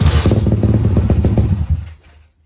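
A motorcycle engine is throttled and revs in loud, uneven pulses for about two seconds, then cuts out as it stalls, leaving near silence.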